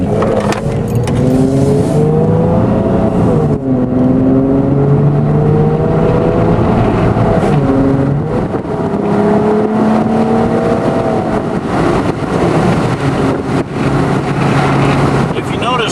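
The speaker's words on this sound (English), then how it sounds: "Now I'm going to round the corner and just to kind of accelerate." A 2007 Hyundai Entourage with a 3.8 V6 that runs badly accelerates around a corner, its engine note rising and falling in repeated sweeps under constant wind and road noise heard from inside the cabin.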